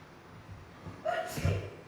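A single short sneeze from a person in a quiet indoor gathering, a quick sharp burst rising out of faint room tone near the middle of the clip.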